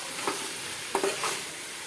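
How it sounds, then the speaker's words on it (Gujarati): Corn with spices is stirred in a sizzling pan, a steady frying hiss under a few soft scrapes of the spoon, close and alone with no talk. "મકાઈને આ રીતે સારી રીતે મિક્સ કરવાની"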